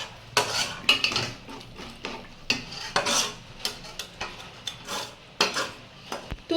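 Stirred, well-fried food is scraped and spooned from a pan into a cooking pot, with a run of close metal clinks, scrapes and knocks of utensil against cookware coming in irregular bursts.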